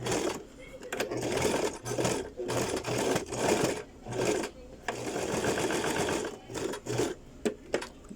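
A sewing machine stitches piping onto a bodice seam in repeated bursts of rapid mechanical chatter, with short pauses between runs and a voice talking over parts of it.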